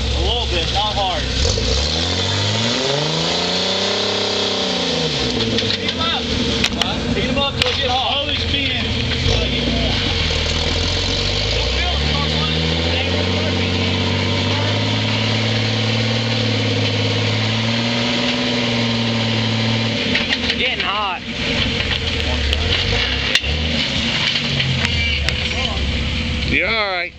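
A built Jeep Rubicon crawls the lower rock garden at Harlan, Kentucky, its engine rumbling and revving unevenly as it climbs, close and steady throughout with people talking over it.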